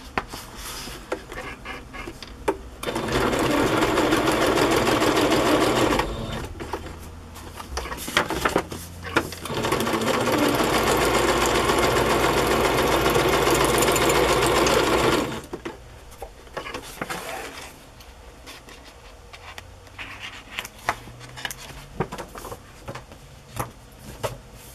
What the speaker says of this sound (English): So now I can finish sewing this pocket in.